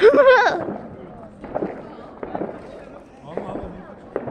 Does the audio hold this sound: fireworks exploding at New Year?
yes